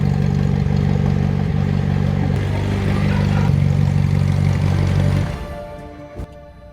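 A damaged McLaren 720S engine with a blown cylinder head runs loudly with a rough, droning hum and rattling clatter, then winds down and cuts out near the end, followed by a single knock.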